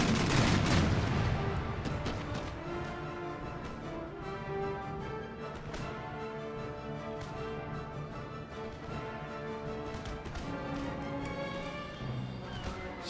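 Ship cannons fire broadsides in the naval battle game Empire Total War, a dense rumbling barrage of overlapping booms that is loudest at the start and continues as a steady roar of gunfire and battle noise.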